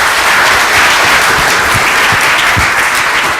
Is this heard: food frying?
no